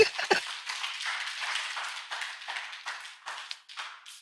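A church congregation claps, a bright, uneven patter of many hands that rises and falls in short waves, with no voices over it.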